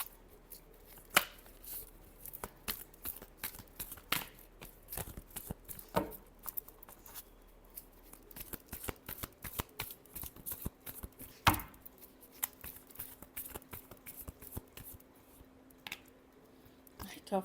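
Tarot cards being shuffled by hand: quick, uneven bursts of crisp clicks and papery slaps, close and fairly soft, recurring in clusters with short pauses between them.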